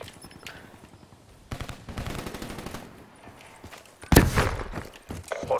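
Assault rifle gunfire in the video game Black Ops 3, short bursts of rapid shots with a loud sharp volley near the end, mixed with game ambience and no talking.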